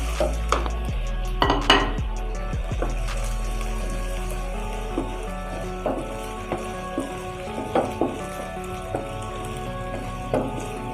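Mutton frying in a pot for white mutton korma is stirred with a spoon, producing scattered metallic clinks and scrapes over a low, steady background hiss.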